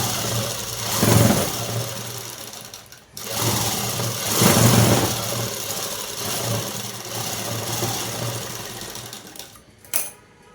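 Sewing machine stitching folded black cloth, running in bursts of steady mechanical whirring that rise and fall, with a short pause and a sharp click near the end.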